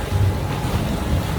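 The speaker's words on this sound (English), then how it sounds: "sails are pulled tight, and yeah, bashing into the sea a bit" A sailing catamaran, sails pulled tight and one engine running, bashes into choppy sea waves: a steady loud rush of wind and water with low rumbling thuds, no voices.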